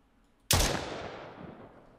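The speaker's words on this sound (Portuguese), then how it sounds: "Dou um tiro de aviso." A single warning gunshot in the horror video game Silly Billy, one sharp loud blast followed by a long decaying echo tail, heard alone against near silence.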